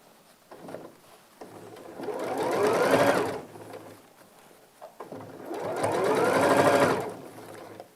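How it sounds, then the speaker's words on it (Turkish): Sewing machine stitching a straight seam on girls' shorts, two sustained whirring runs of rapid needle clatter, each swelling for a few seconds then stopping, with quiet pauses between and no talk. "düz dikişle Altta devam ediyorum."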